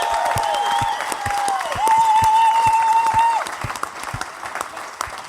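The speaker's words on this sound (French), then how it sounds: "Applaudissez-le, s'il vous plaît." Studio audience applause for a radio host, dense steady clapping with a whistle or cheer rising over it midway, then tapering off.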